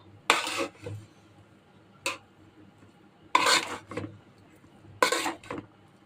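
A utensil scrapes and clinks in a pan while fried rice seasoned with Maggi masala is mixed, coming as four or five short, separate stirring strokes over faint background noise.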